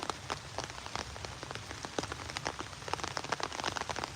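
Steady rain patters on a surface, dense and continuous with scattered louder drops, no voices.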